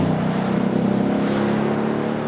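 Mercedes-Benz E-Class E63 AMG engine droning steadily while driving, a loud low rumble that holds fairly even throughout with slight pulsing, heard alone without voices.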